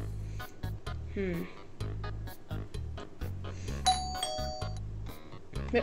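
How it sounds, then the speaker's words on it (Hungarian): A doorbell rings once with a bright ding-dong chime partway through, heard over steady background music and some talk. "Ez a csengő volt."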